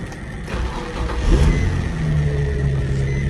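A Nissan 350Z engine cranks and fires up in a garage after an A/C compressor replacement, catching with a brief rev and then settling into a steady, close, humming idle.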